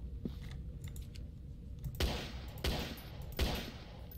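Gunshots ring out in a horror video game set in an asylum: three sharp, booming shots about a second apart over a constant low background rumble.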